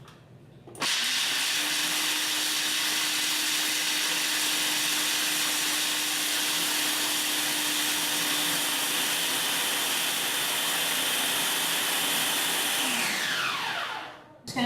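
A blender whirs steadily while blending raw vegan pumpkin pie filling, one continuous loud motor run with a steady hum lasting about thirteen seconds before spinning down, no talking.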